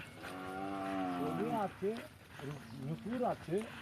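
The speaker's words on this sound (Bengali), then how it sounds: "এই গরুগুলোর নাম ধরে ডাকলে এই গরুগুলো কিন্তু সারা দেয়" On a Padma river sandbank near the India-Bangladesh border, a cow gives a long, drawn-out moo close by, followed by shorter lowing calls mixed with voices talking nearby.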